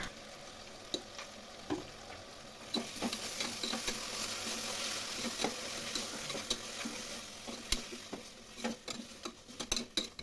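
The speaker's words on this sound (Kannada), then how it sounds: "ಶುಂಠಿ ಬೆಳ್ಳುಳ್ಳಿ ಮತ್ತು ಹಸಿಮೆಣಸಿನ್ಕಾಯಿ ಪೇಸ್ಟನ್ನು ಸಹ ಹಾಕ್ಕೊಂಡು ಚೆನ್ನಾಗಿ ಫ್ರೈ ಮಾಡ್ಕೊತಾ ಇದ್ದೀನಿ" Ginger, garlic and green chili paste frying in a pan, a steady sizzle with scattered stirring clicks and taps that grow busier toward the end, no voices.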